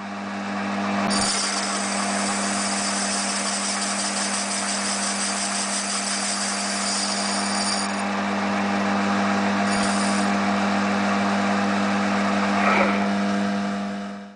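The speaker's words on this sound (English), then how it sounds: "Taking a light cut with a carbide tip tool." Steady high-pitched machining whine from a lathe taking a light cut on a steam locomotive smokebox door disc with a carbide-tipped tool, running continuously with a low motor hum beneath, a brief tonal change near the end.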